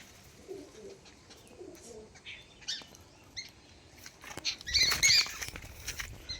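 Pigeons around a farm well coo softly. Faint rustling and a short burst of wing flutter come near the end, with no talk.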